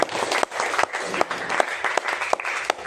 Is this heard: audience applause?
yes